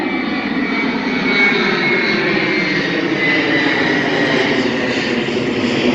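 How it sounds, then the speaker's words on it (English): An airplane flies low overhead near an airport, a loud, steady engine roar that fills the whole stretch without a break and with no voices. "Plane literally flying above me."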